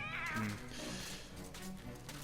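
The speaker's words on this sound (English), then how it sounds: "there's quite a few cats about" A cat meows in the video game MediEvil, a drawn-out wavering yowl up front followed by softer mews, moderately loud over faint game ambience.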